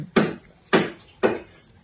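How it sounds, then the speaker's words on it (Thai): Three sharp hammer blows from nearby construction work land about half a second apart, each ringing briefly, close and fairly loud. "ก็คือเสียงเพิ่นกำลังก่อสร้างนะคะ"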